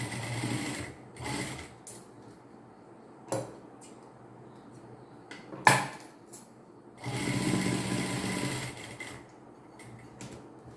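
An electric sewing machine stitches a kurti in short bursts, several brief runs and a longer run near the end, separated by quiet gaps and small clicks of handling fabric.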